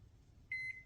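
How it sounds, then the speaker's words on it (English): A microwave oven warming brownie mix gives off a faint low hum, then a short run of clear electronic beeps near the end. "we're going to throw this in the microwave for just, 30 seconds"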